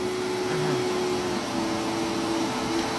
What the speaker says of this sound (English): Charlton, vacuum.